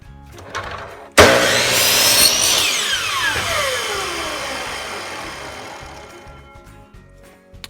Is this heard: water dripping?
no